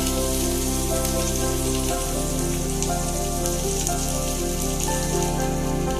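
Chopped onion and garlic frying in a pan for bread upma: a steady, even sizzling hiss that holds for several seconds over a faint low hum, with no speech.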